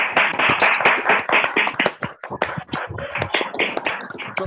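A small group clapping during an online meeting on 1 May 2021 to welcome a guest, with dense uneven claps close to the microphone and no talk.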